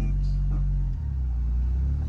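A car with a ZF 8HP automatic gearbox creeps forward as the clutch engages. A low, steady engine rumble drops slightly in pitch partway through, and someone talks over it.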